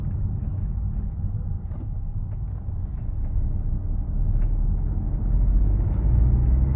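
A 2020 Nissan Juke engine drones from inside the cabin as it accelerates while driving, a low continuous rumble that grows slightly louder toward the end, with no talking.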